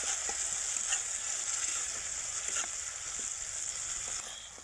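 Silver fish cooking in mustard paste and oil in a pan, a steady soft sizzle and frying hiss with a few light scrapes of stirring, close and fairly quiet, with no talking.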